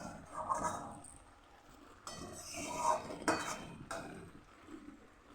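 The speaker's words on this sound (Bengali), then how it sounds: "খুব সুন্দর সেন্ট বেরোচ্ছে, কিন্তু এখনও নাড়তে থাকবো।" Food is stirred in a cooking pot with a few soft clinks and scrapes of a spoon against metal, fairly quiet, in a home kitchen.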